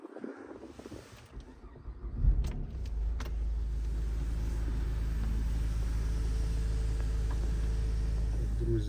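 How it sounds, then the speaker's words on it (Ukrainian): A Nissan Qashqai's 1.5 dCi diesel engine drones steadily with a low rumble after starting up, joined by wind noise as it drives along. "Виїдемо на трасу, на тест-драйв ще перевіримо автомобіль обов'язково в ходу."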